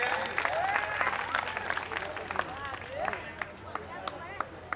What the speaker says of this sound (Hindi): तालियों से स्वागत कीजिए, कम से कम तालियों तो।